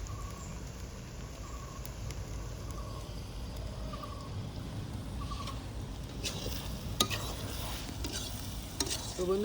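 Onions fry in a pan for a Bengali mutton curry. A low, steady sizzle is broken by scattered clicks and scrapes of stirring, with a few louder knocks near the end.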